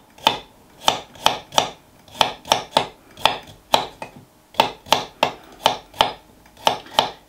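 A Ninja Stay Sharp knife slices through a topped-and-tailed carrot on a board, a run of about twenty crisp, evenly spaced cuts, each a sharp crunch with a brief scrape, close and clear with a short pause midway.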